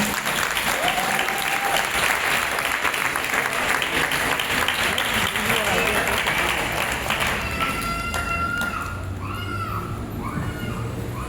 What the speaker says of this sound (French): Est-ce qu'on peut acclamer Dieu pour sa vie?